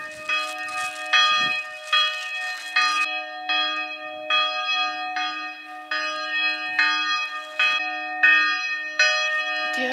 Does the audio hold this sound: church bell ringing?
yes